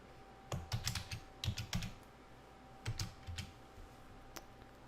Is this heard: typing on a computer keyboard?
yes